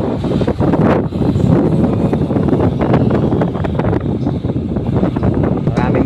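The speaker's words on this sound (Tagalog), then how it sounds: "malakas ang hangin dito sa ating area" Heavy wind buffets the microphone in continuous low rumbling gusts at a railway construction site with double gantry cranes, with a faint mechanical hum underneath and no clear talking.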